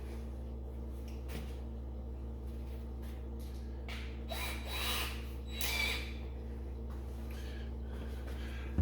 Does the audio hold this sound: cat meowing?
no